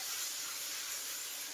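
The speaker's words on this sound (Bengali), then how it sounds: "আদা রসুন বাটা দিয়ে আর একটু কষিয়ে নেব" Ginger garlic paste sautéing in oil for mutton curry, a steady close hiss of frying throughout with no speech.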